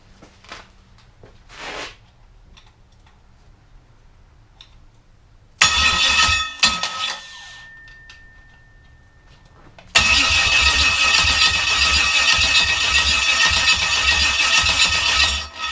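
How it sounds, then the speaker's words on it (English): The starter of a 5.3 LS engine whirs in repeated attempts, first quieter, then a loud steady cranking drone that runs continuously for several seconds. "I think that noise is your starter."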